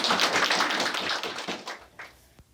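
Audience applause welcoming a Sogang University political science professor onto the stage at a unification academy lecture, a dense crackle of many hands clapping that thins out and fades over a couple of seconds.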